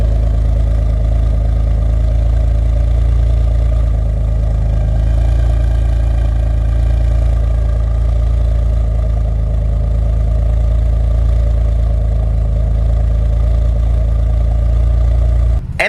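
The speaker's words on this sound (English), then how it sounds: "I'll start the car up so you guys can hear it." A Camaro fitted with a new, very loud exhaust idles with a steady, deep rumble, heard up close and unbroken for the whole stretch, with no one talking.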